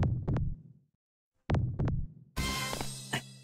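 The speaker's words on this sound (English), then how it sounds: "What's up with like the heartbeat sound effect?" A video game heartbeat sound effect, two pairs of deep, close thumps separated by a short silence, then a burst of bright, noisy game sound.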